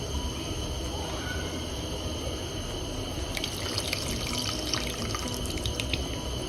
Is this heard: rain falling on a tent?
no